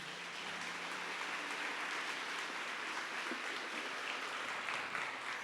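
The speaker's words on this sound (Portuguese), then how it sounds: "Vamos aplaudir essa palavra do Senhor" Steady applause from a church congregation during a Catholic Mass, a dense wash of clapping that holds evenly throughout without any voices on top.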